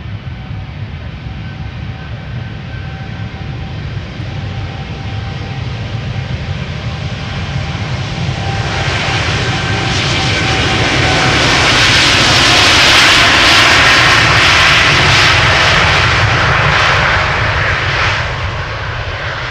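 KLM Boeing 787-10 Dreamliner departing Amsterdam Schiphol for San Francisco, a loud sustained jet roar that swells steadily to a peak before easing off slightly, with no voices.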